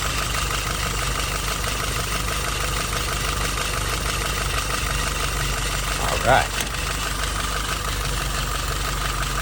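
A steady, low engine idle at a little over 700 rpm from a YS 950S runs evenly throughout, with a brief spoken word partway through.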